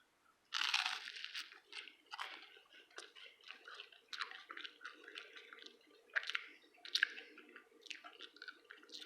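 Someone chews buttered French bread close to the mic, giving wet, crunchy bites and squishy chewing that repeat unevenly, quiet but distinct, with no talk.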